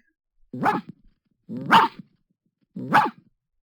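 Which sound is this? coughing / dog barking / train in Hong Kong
dog barking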